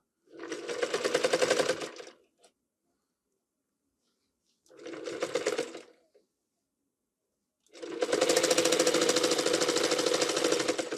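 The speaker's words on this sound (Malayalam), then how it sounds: "സ്റ്റിച്ച് ചെയ്യുമ്പോൾ സ്റ്റാർട്ടിങ്ങിൽ നമ്മൾ നേരത്തെ പറഞ്ഞ അതിന് തന്നെ ലോക്ക് ചെയ്ത് കൊടുക്കാം" A sewing machine stitching a baby chest cover runs in three bursts of rapid, even mechanical chatter, two short and one longer, with near silence between them.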